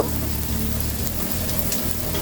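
Carrot, snake gourd and other chopped vegetables sizzling in a pan with a little salt for fried rice, a steady dense crackle with faint stirring, close and continuous.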